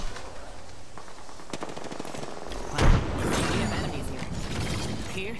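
Rapid automatic gunfire in the Apex Legends video game, dense bursts of shots with mechanical clatter and a sharp louder blast about midway, continuous and fairly close with no talk.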